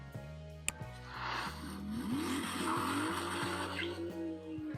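A Porsche 911 GT2 RS accelerating hard, its engine revving up through several gear changes with rising pitch sweeps and a brief tire squeal, loud and close.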